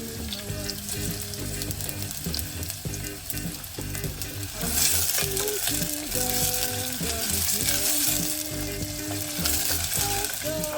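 Onion fries in oil for a tomato sauce, making a continuous close sizzle with a spoon stirring now and then.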